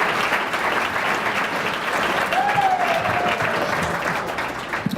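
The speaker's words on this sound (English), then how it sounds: "Give them a round of applause." Steady, dense applause from a crowd at a 2015 athletic awards banquet, filling the room evenly for several seconds with a faint whistle rising partway through.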